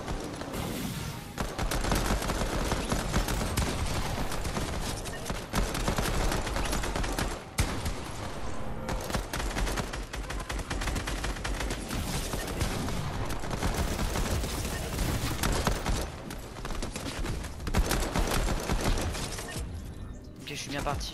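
Pistol fire in a Call of Duty-style Gun Game shooter mode, dense and continuous, with rapid shots, other gunfire and clatter filling the whole stretch and a voice talking over it.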